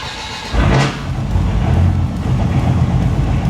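A Dodge Viper fitted with a new GCC triple-disc clutch cranks briefly, catches and settles into a loud, steady idle right up close.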